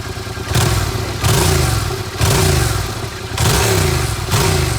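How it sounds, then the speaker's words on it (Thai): A 2015 Yamaha MT-07 motorcycle in original stock condition, its twin-cylinder engine and exhaust revved close up in four loud, repeated throttle blips over a steady idle, each burst rising and holding briefly before dropping back. "เครื่องยนต์เงียบกริบนะครับผม อ่ะ เสียงท่อ"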